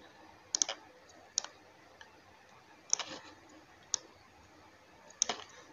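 Computer mouse clicks, five short, crisp clicks at uneven intervals, some in quick doubles, quiet and close with no talking.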